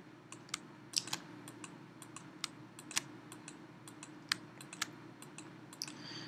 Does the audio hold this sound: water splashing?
no